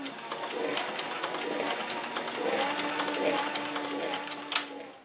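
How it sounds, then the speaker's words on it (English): A sewing machine stitches around leather pieces for a shoulder holster, its rapid needle clatter running steadily for about five seconds, fairly loud and close, with a brief louder knock near the end. "We're just going to stitch around them."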